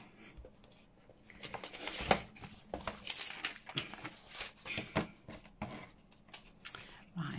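Scissors snipping through vellum paper in a series of irregular crisp cuts and crinkles, close and moderately loud, with some rustling of the sheets between snips.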